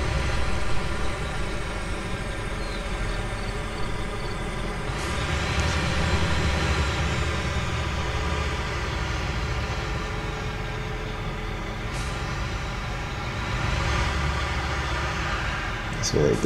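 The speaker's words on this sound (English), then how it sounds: "To hear that engine just trying to pull that thing," In Construction Simulator 2, a truck engine drones and strains under a heavy hauling load, a steady low rumble with a gear change or two, while someone talks over it.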